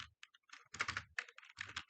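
Quick, close clicking of a computer keyboard as a short web address is typed in, with irregular bursts of keystrokes and brief pauses, no voices.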